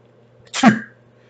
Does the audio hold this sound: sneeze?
yes